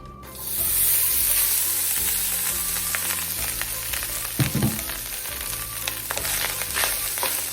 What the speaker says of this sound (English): And then we will start to fry our rice.